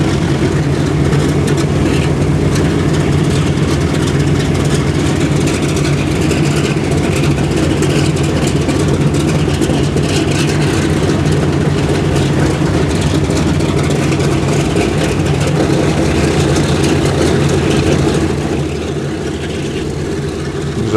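The four radial engines of the Boeing B-17 Pink Lady turn over at an airshow in Melun, a loud, continuous low rumble and throbbing roar that runs nearly throughout before easing off toward the end.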